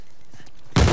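Bomb exploding in the video game Uncharted 4, a sudden loud broadband blast that hits near the end after a quiet lead-in of faint game ambience.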